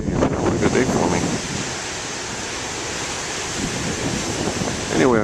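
Moderate ocean waves breaking on a shore, a loud, continuous roaring wash with wind buffeting the microphone, swelling briefly at the start and end.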